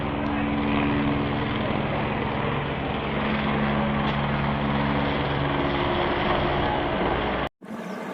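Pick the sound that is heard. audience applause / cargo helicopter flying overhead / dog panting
cargo helicopter flying overhead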